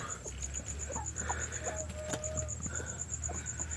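Hens cluck softly and intermittently nearby over a constant high insect-like buzz and low background hum.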